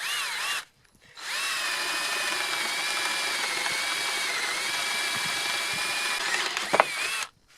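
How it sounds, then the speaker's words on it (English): A power drill bores into wood with a 1/2 inch spade bit while framing rafters, a loud steady high whine that starts after a short pause and runs for about six seconds before cutting off. "So I'm going to use a 1/2 inch spade bit"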